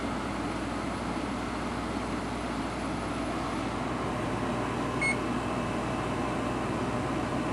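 An 8,000 BTU GE window air conditioner's compressor runs quietly, a low, even mechanical hum steady and unchanging throughout alongside a soft fan whoosh.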